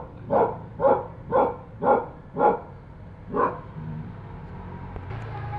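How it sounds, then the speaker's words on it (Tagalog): A tethered dog, already hoarse from barking, lets out six sharp, evenly spaced barks late at night, close by, before falling quiet under a faint background hum. "Hanggang ngayon tahol pa rin siya ng tahol."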